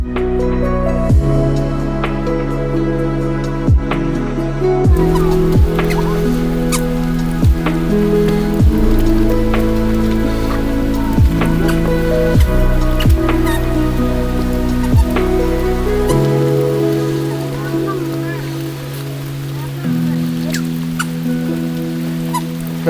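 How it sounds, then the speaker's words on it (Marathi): Heavy monsoon rain falls steadily at Karnala Fort bird sanctuary near Panvel, India, with loud drops pattering on nearby surfaces throughout and no one speaking. "पाऊस खूप आलाय"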